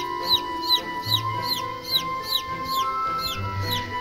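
A very young chick, about three days old, gives high, thin peeps in a quick repeated rhythm, roughly two per second, close and clear above a faint steady hum.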